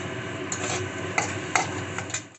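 Vegetable cutlet filling frying in a pan, a steady close hiss of sizzling broken by a few sharp clicks and taps of a spoon stirring against the pan.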